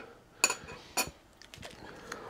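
A utensil stirs Chapagetti noodles in a pot, giving two sharp metallic clinks followed by softer scraping and light taps, close and fairly quiet.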